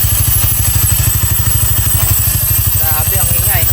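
A motorcycle engine with a direct dry clutch idles loudly with a fast, rattling clatter, running steadily; a voice briefly comes in near the end.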